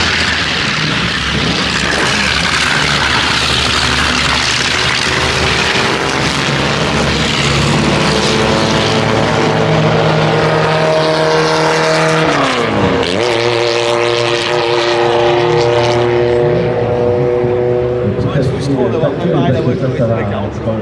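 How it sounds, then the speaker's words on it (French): Race car struggling around the Linas-Montlhéry circuit, engine droning and revving with rising and falling pitch as it passes, loud and continuous under someone talking throughout. "on l'entend, elle a quelques difficultés cette voiture."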